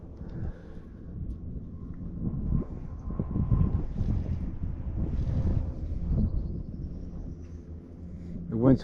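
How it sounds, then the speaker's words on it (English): Wind rumbles steadily across the microphone over open water around a small fishing boat, with low buffeting that rises and falls under someone talking. "The wind's picking up."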